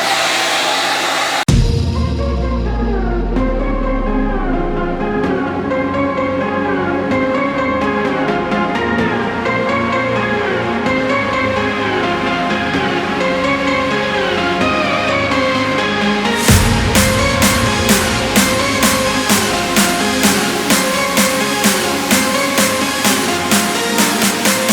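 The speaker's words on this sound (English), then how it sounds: "go back in with the blow dryer, blow dry that area so that it stays smooth" A blow dryer hums continuously at close range, with a brief pause near the start and rhythmic clicking and tapping joining in later.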